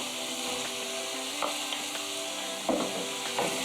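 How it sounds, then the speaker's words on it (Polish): Meat and oyster mushrooms sizzle steadily in a pan, with a few soft clinks and scrapes of stirring over the constant hiss. "Mięso z boczniakami już się smaży"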